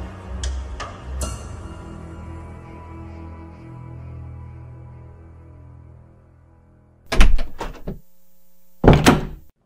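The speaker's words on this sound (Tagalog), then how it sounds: "Nagulat siya na may kumalabog sa pintuan nila." Heavy thuds against a house door: a few knocks early on, then two loud, sharp bangs near the end, with a low hum between them.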